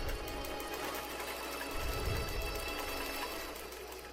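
A sewing machine runs steadily while stitching a giant dahlia quilt pattern, giving a close, continuous whirring hum with a rapid rhythmic needle pulse and no pauses, and no talking.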